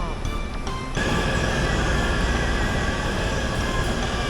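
A train rumbles steadily close by in Taipei, a constant broadband roar with faint squeals, after a brief quieter moment at the start.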